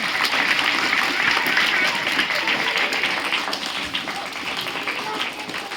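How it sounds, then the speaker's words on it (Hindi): Audience applause rings out for a child receiving a small prize at a Thursday prayer assembly, steady and dense clapping from a crowd that holds for about six seconds and tapers slightly toward the end. "मारो जोरदार ताली लगाओ बेटा।"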